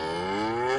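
A robot chicken cow in the Roblox Brookhaven game lets out a single sustained, droning moo, close and steady, heard alone.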